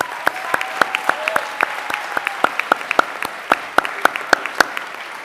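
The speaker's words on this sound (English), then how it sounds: "Please, let's give them a round of applause." Audience clapping at a middle school eighth grade promotion ceremony, a dense, steady round of applause from a crowd with sharp individual claps standing out near the front, no voices over it.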